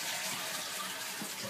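A toilet flushes inside a gas-powered camper, giving a steady rush of running water that fills the whole short stretch at an even level, close by with no voices.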